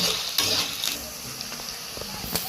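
Onions and spices sizzle steadily in a hot pan for katla fish dopiaza, with close scraping and clinking as a utensil stirs them.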